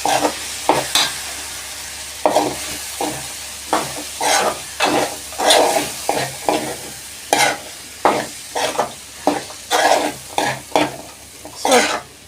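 Soybean potato curry is stirred in a pan with a spatula, a series of rhythmic scraping strokes over a low sizzle, close and fairly loud, without talking.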